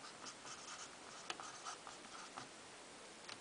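Pen writing on paper, a quiet scratchy stroke pattern in short continuous bursts with occasional taps, close and soft, no one speaking.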